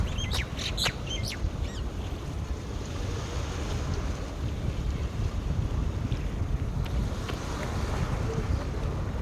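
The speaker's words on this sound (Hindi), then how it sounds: "पानी की आवाज़ आ रही है" Steady broadband rush of water and wind, continuous and fairly loud throughout, with a few brief high chirps near the start.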